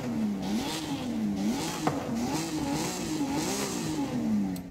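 A Ferrari F50 V12 engine in Forza Horizon 5 revs continuously, its raspy note rising and falling in pitch over several seconds, loud and close.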